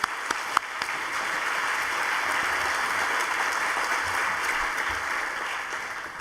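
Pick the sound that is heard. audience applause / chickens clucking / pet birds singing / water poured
audience applause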